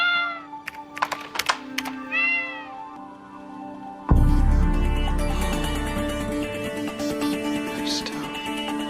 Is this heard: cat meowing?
yes